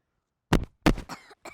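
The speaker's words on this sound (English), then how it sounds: "You cough." Two sharp, close coughs in quick succession, followed by a softer rasping throat sound and a brief trailing noise.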